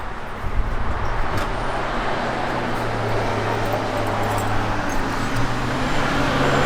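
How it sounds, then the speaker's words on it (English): A 1966 Chevrolet Nova hot rod engine idles steadily with a deep, uneven low throb, continuous and fairly loud, with faint outdoor background noise. "I love a little noise in an old hot rod, man."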